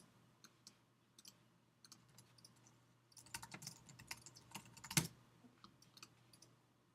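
Fingers type an email address on a computer keyboard, a quiet run of irregular key clicks that grows busier midway with one sharper tap, close and faint with no talking.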